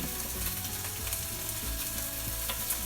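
Bacon frying in a pan gives a steady, dense crackle and sizzle that runs evenly through the whole stretch, moderately loud with no voices over it.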